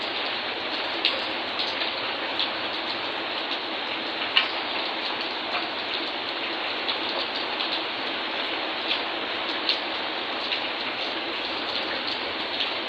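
Steady heavy rain falls during a storm, a dense hiss with scattered droplet taps and no let-up, heard up close.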